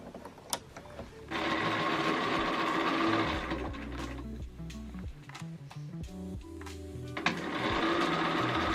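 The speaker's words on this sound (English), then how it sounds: "sew these pieces together" A sewing machine runs steadily up close, stitching waistcoat pieces together in long continuous bursts with brief pauses and faint handling noises between runs.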